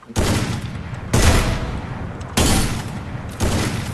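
Several loud bursts of rapid video game gunfire, each a sustained volley with a sharp onset, separated by brief gaps.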